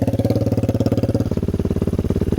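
Lifan KP Mini 300 motorcycle with a ZS175FMN 4-valve engine and a custom exhaust fitted with the stock muffler baffle, idling close by. It gives a steady, loud, deep thumping pulse with a slight change in tone partway through.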